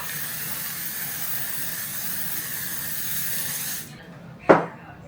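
A UV-care makeup-setting mist sprays in one long, steady hiss that stops abruptly, followed by a short sharp click near the end.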